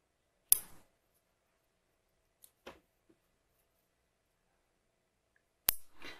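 Scissors trimming the seam allowances of a sewn swim top, a few sharp isolated snips separated by long silences, close and clear with no talk.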